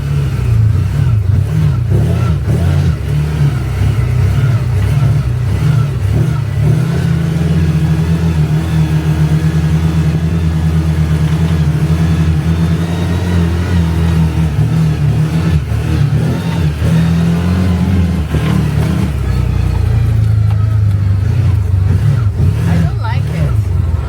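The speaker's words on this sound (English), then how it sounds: "You just give it gas. It's a very touchy pedal." A CFMOTO UForce 1000XL side-by-side engine revs and accelerates, a loud, steady drone whose pitch rises and falls under occasional talk.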